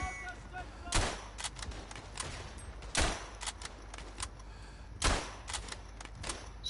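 Gunfire in the WW1 game Verdun: several sharp rifle shots crack out at uneven intervals, some loud and close, others lighter, over a constant low rumble of battle ambience and distant firing.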